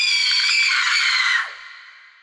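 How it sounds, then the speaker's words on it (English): A blood-curdling scream rings out high and shrill, held steadily for over a second before breaking off and trailing into a faint fading echo. "It was then that she heard a blood-curdling scream."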